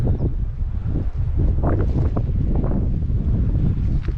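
Blustery, cold summer wind on a south-coast beach batters the microphone in a constant low rumble with gusting surges, no talking heard.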